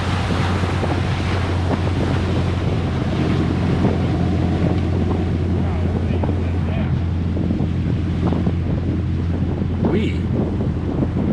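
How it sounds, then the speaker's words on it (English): Boat passing on the Withlacoochee River near Yankeetown, its engine a steady low drone with wind buffeting the microphone and wash from the wake running continuously throughout. "Because here comes a boat."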